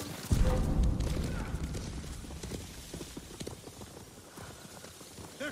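Mongol riders' horses in the Ghost of Tsushima video game pass by with a heavy thud followed by a run of hoof clip-clops that fade and thin out, over a rumbling background.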